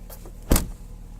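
Tailgate of a 2015 Dodge Journey 3.6 Limited being shut, a single sharp thud-slam near the middle, preceded by faint rustling handling, close and brief.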